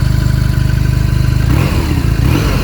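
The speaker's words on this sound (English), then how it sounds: "Watch, the whole bike moves when you rev it because it's the Boxer Twin." A 2022 BMW R nineT boxer twin motorcycle engine idles with a loud, steady low throb, then revs up sharply around the midpoint, its deep pulsing note rising and settling, close and alone.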